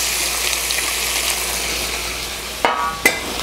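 Pork for a bitter melon and miso stir-fry hitting a hot frying pan, a steady bright sizzle with a hissing wash, broken near the end by two sharp knocks as pieces land.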